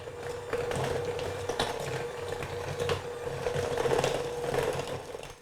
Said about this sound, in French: à l'aide d'un batteur électrique, je mélange bien comme il faut afin d'avoir une préparation homogène et légère